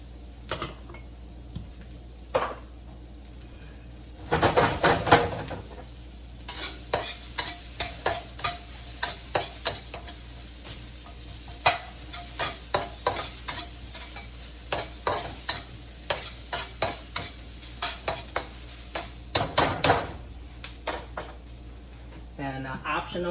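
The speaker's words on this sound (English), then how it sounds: "I'm gonna put the aromatics in. Got the garlic, you got the ginger, and you got the onions." Garlic, ginger and onions stir-frying in a pan for a fish fillet and tofu dish, with bursts of loud sizzling and a run of rapid rhythmic metallic spatula scrapes and taps against the pan.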